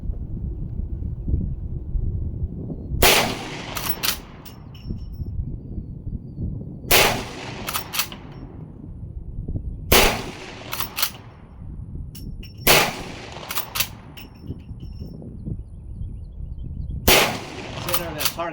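Smith and Wesson 1854 .44 Magnum lever-action rifle fired at an outdoor range target, with sharp loud reports spaced a few seconds apart, each trailed by a brief echo, over wind and a low background rumble.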